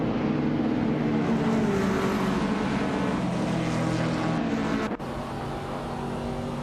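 Retro slow cars racing on the Fort Wayne Oval in a video game, among them a 1993 Lancia Delta HF Integrale, their engines droning in a steady, dense roar with no break, briefly dipping near the end.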